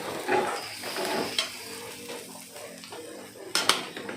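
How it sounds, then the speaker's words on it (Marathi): Goan xacuti masala with turmeric roasting in a pan on the gas, heard as a soft, uneven sizzle with scraping stirs and a few sharp clinks of a utensil against the pan, with no voices. "आता ही बरी भाजप का गॅस मस्त बारीक कर"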